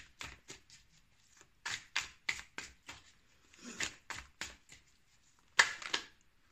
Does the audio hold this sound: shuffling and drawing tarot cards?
yes